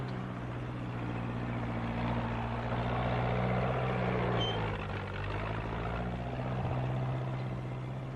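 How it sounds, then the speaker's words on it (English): A farm tractor rumbles steadily as it is driven along toward the fields, a constant low engine drone with a slight rise and fall in pitch, fairly close and without talk. "The farmer is taking his tractor to the fields to sow some corn seed."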